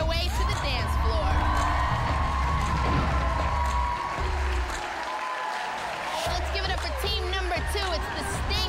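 A studio crowd cheers, whoops and applauds loudly as the dance team Hot Damn walks onto the dance floor at a reality-show dance competition. The sustained, dense roar dips briefly midway, and voices shout over it.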